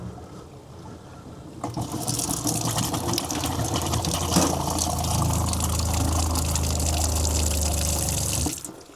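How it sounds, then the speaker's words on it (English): An RV water pump kicks on and runs with a steady whirring hum while water gushes and rushes through the plumbing, then cuts off abruptly. "The water pump is never really happy in between trips."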